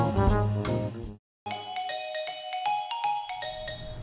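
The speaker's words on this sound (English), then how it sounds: "Doorbell ko lang, Kring." A doorbell rings with a bright ding-dong chime, a short burst, a brief silence, then a run of repeated ringing tones, fairly quiet and close.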